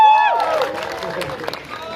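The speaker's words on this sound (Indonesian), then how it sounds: "beri tepuk tangan yang meriah untuk seluruh tim dari film Sri Asih" An audience at the Sri Asih film press conference applauds in a studio, producing a steady wash of clapping that starts under a loud, tonal voice.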